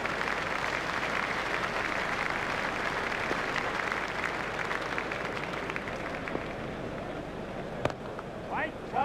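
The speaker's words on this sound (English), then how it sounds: "He's getting a standing ovation from this excellent crowd." A big crowd at a cricket stadium during an Australia versus England match gives a standing ovation, sustained dense applause holding steady and loud throughout while a commentator talks over it.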